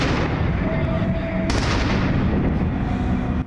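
Holiday fireworks salute fired over a festive concert honouring Crimean veterans, heard as a dense, continuous rumble of booms and crackling bursts with one sharp report midway, loud and sustained throughout.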